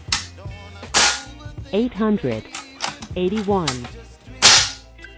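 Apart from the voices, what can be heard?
FX Wildcat Compact .22 caliber air rifle shots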